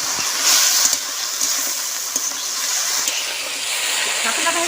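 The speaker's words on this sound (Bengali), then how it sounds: "শাপলাতে যা জল আছে এই জল দিয়ে ভেজে দেবেন" Water lily stems frying in mustard oil make a continuous bright hissing sizzle, fairly close and steady, with a few faint clicks and no talk.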